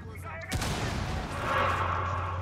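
A sudden loud gunshot blast, followed by a sustained roar of rapid gunfire and rumbling noise from Rainbow Six Siege on Xbox One.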